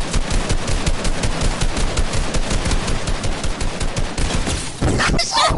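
Rapid, sustained automatic gunfire in a video game rattles on loud and dense for several seconds with no break, shifting to a different burst near the end.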